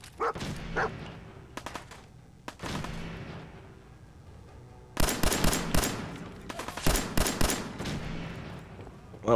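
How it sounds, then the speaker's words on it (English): Gunfire in the Fallout 4 video game: loud bursts of shots come in clusters, with sharp isolated cracks early and then a dense rapid volley in the second half, mixed with an occasional dog-like bark. "I don't know where the shots are coming from."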